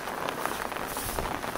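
Rain falls steadily on surfaces outdoors, a dense, even patter with no talk.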